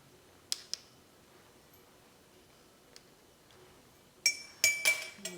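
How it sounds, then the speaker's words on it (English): Metal bar spoon clinks against a glass mixing glass while sugar mixture for an Old Fashioned with Woodford Reserve Rye goes in: two sharp early ticks, a faint one midway, then a closer cluster of bright clinks at the end, no talk. "I will be putting 2 bar spoonful of sugar mixture into my mixing glass."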